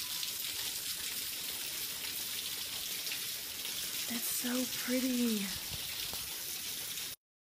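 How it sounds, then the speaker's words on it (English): Steady broadband hiss of rain pouring down throughout, with a voice speaking briefly partway through. "Yeah, it's raining."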